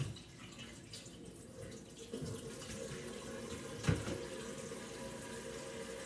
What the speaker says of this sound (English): Now I'm taking my pot again, put more cold water in it.